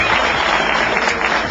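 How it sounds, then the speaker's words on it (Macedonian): A studio audience bursts into applause at a television quiz show, a dense, loud wash of clapping that fills the brief moment without pause. "Дајте се аплауз брзо!"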